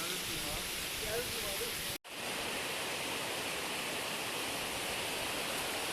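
At Mamirli Waterfall, water pours and splashes close by in a loud, steady rushing roar, briefly cut off by a dropout near the two-second mark.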